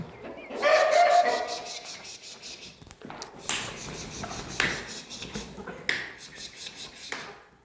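A rooster and free-range hens on a farm: a loud crow near the start, then scattered clucks and bird calls at close range, with faint background rustle between them.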